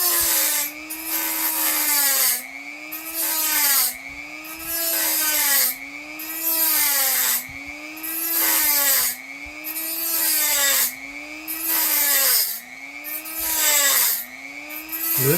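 A Dremel rotary tool grinds into a thick knife blade in repeated passes, each stroke a bright whining screech that dips and rises in pitch, about seven cycles separated by brief pauses.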